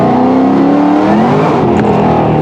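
Shelby GT500 engine revving hard, a loud, close, continuous roar that climbs and shifts pitch as it accelerates, alone without voices.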